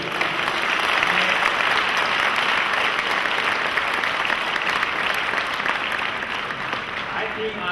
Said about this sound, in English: Let us all greet him by clapping.